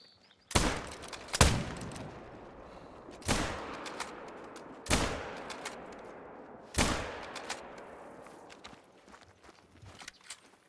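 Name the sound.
gunshots at an animal in video game theHunter: Call of the Wild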